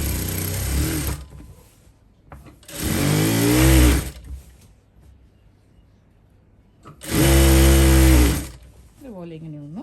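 A domestic sewing machine stitches the hem of a nightie in two loud, steady runs of a few seconds each, separated by quiet pauses with faint handling.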